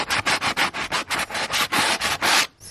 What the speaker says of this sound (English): Prep it, sand down the legs.